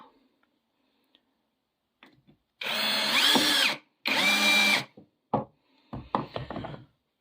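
A Procraft PA18Pro brushless cordless screwdriver drives a screw in two loud, close whirring bursts with a short pause between them, followed by a few sharp clicks and handling knocks.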